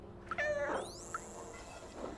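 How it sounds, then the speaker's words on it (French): A small cat in the video game Stray gives one clear, close meow, followed a moment later by a brief chirp, over a quiet, faintly humming game ambience. "Juste un petit chat."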